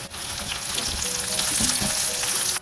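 Whole red chillies sizzle and crackle in hot oil for a breadfruit curry, a loud, busy frying hiss with scattered pops running steadily throughout, no voices.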